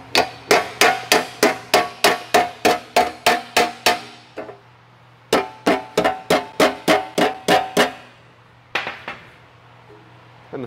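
Hammer blows on sheet metal being shaped into a gas tank, two fast rhythmic runs of a dozen or so sharp ringing strikes with a short pause between, then a few scattered hits, close and loud over a low hum.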